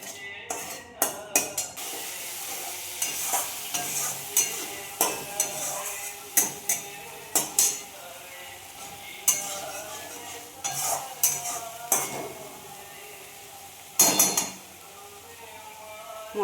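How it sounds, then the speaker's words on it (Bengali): Spice paste with bay leaf and whole garam masala being fried and stirred in oil in a pan, with repeated scraping and clinking of a utensil against the pot over a soft sizzle, close and fairly loud. "মশলাটা একটু কষিয়ে নেবো।"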